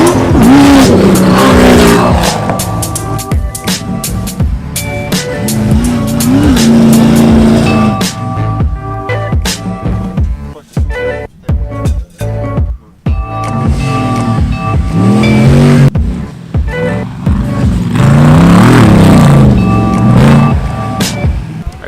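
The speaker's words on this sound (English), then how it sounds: "They're literally crashing their trucks all over the place." Trucks driving hard and crashing at the Dirtfest off-road event, loud roaring engines and revving with sharp impacts and rattles, continuous and close, with a noisy outdoor crowd.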